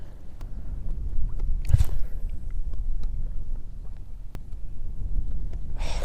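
Wind rushes steadily outdoors during a bass fishing outing, a low, broad roar buffeting the microphone with a few brief clicks and knocks layered on top.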